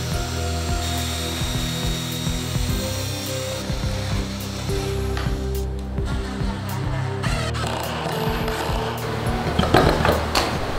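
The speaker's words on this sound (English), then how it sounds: "pilot holes need to be drilled into these" Power drill boring roughly spaced pilot holes into wooden panels for a homemade PC cabinet, a steady whirring motor with intermittent tapping and bursts of grinding against the wood, close and fairly loud.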